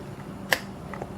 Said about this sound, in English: that was a good click on 5 that time.